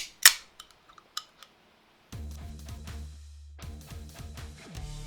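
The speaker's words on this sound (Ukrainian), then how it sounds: "та відкриванням баночки енергетика." A sharp tab pop with a quick fizzy hiss, followed by a few small clicks, then a steady low hum with light clattering.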